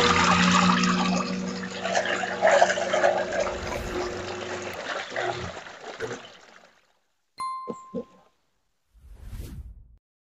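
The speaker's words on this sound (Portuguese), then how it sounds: "A gente liga, a água vai girando, passando dentro do saquinho e ficando toda lá nele." An Arno LVST semi-automatic washer runs with water swirling and sloshing in its tub for several seconds, then the churning stops, leaving a few short clicks and a faint watery splash close by.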